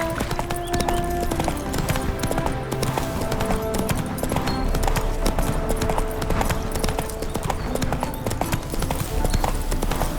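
Horse hooves clip-clop at a steady walking rhythm on a road in The Witcher 3, a close, continuous clatter alongside faint game ambience and no talking.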